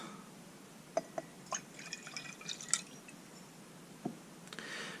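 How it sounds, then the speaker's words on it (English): Water is poured into a container of old gasoline, giving quiet, sparse drips and small splashes spread across a few seconds against a faint background hiss. "I'll add some water to it, and I'll show you what happens."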